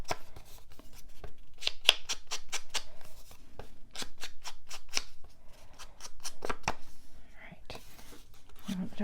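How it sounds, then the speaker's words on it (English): Scissors snipping the edge of paper while a mini album is being crafted, quick quiet cuts in a steady run of close, crisp clicks, with soft handling noise and faint talk behind. "just want to trim a little bit off the edge of that"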